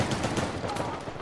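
Gunfire from Uncharted multiplayer crackles in a brief, dense burst of rapid shots and sits fairly loud throughout the short moment.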